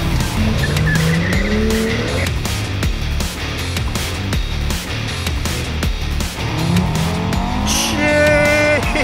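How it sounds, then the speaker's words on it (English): A BMW M2 with a 3-litre turbo straight six or an Audi RS3 makes a launch-control start, its engine held loud and droning before rising through the revs and gears, with tire squeal, all close and dominant. "That sounds like launch control."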